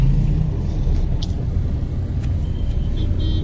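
Road traffic on a town street near a D Mart store, a continuous loud low rumble of passing vehicles with a few faint higher clanks and tones over it.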